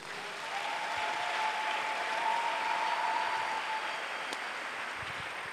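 A church congregation applauding and cheering for Jesus during a sermon, a sustained wash of clapping at moderate distance holding steady for several seconds, with a faint tonal voice or whistle line running through the middle.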